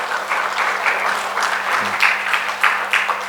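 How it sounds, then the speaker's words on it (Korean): A church congregation claps steadily to welcome a member during a Sunday morning service, a dense, sustained applause filling the room from start to finish. "우리 함께 박수로 환영하겠습니다."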